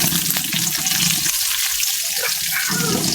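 Chopped onion dropped into hot oil with bay leaf and two cardamom pods for a spicy Bengali egg bhuna, giving a loud, steady sizzle and crackle throughout with no talk.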